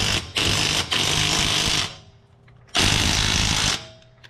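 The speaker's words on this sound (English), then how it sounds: "so we're gonna start blasting with the impact gun" An impact gun hammers on a truck wheel's lug nuts in loud, close bursts: a long rattling burst broken by brief pauses, a quiet gap, then one more burst near the end.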